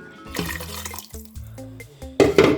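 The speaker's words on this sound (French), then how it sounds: "Là, je rajoute l'eau." Water splashes and gurgles as it is poured into a cooking pot of mashed banana, an uneven close pour that swells and bubbles, then surges louder near the end, with no voices.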